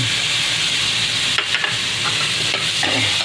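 Garlic and onion sizzle steadily in hot cooking oil in a pan, a continuous frying hiss broken by a few sharp stirring scrapes near the middle and end.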